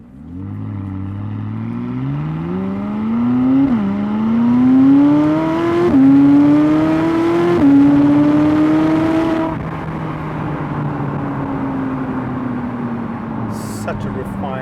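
A 2016 McLaren 570S pulls hard in fourth gear, its engine note climbing steadily in pitch and loudness, easing briefly at shift-like dips, then settling into a steady cruising drone as it reaches road speed.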